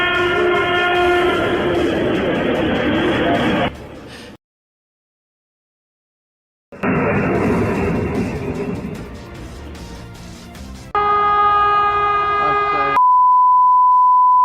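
A train engine roars past at a level crossing, a loud rumbling surge with a horn blaring, then a gap of silence, more heavy rolling noise and sustained horn or siren tones.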